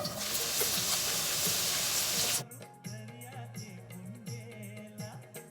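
Red onions dropped into hot oil give a loud broad sizzle for about two seconds, which then cuts out and leaves quieter cooking hiss and kitchen noise.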